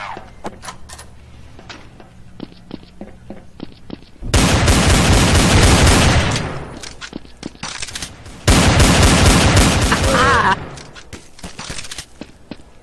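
Bursts of rapid automatic gunfire from the Counter-Strike: Source video game, two long loud sustained volleys separated by quieter stretches of single shots and clicks, with a voice talking in between.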